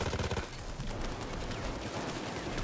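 Rapid automatic fire from a FAMAS assault rifle in Payday 2, a continuous loud burst of closely spaced shots running steadily for a couple of seconds with no talk over it.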